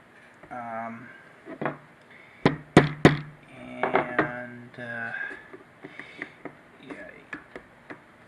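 Parts are pounded onto a melamine board for a QU-BD Two Up 3D printer build, giving sharp irregular knocks and taps, a few sharper strikes clustered together, mixed with a person talking.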